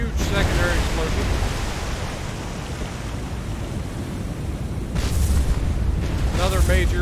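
Ship explosions in the naval video game War on the Sea rumble as a heavy, sustained roar over sea noise, with a louder booming surge late on and faint voice-like tones over it.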